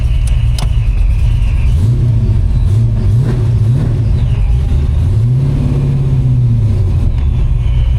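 A Ford Aerostar-era Aero Fox car driving, its engine a loud steady drone close inside the cabin, pitch rising and falling with shifts in speed and revs, no voices.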